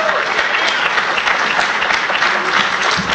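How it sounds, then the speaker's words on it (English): Dense audience applause at a Perl conference, steady and close for a few seconds with no break, filling the hall. "Applause, please."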